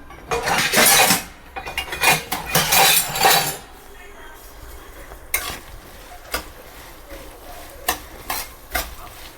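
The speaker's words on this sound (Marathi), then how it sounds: "हे चांगलं तळून घेऊया हिरवी मिरची, कारण हिरवी मिरची तेलामध्ये टाकलं की मीठ टाकायचं." Green chillies frying in hot oil in a pan for spicy poha chivda, with loud clattering stirring and scraping of a spoon early on, then quieter sizzling broken by occasional sharp metal clinks.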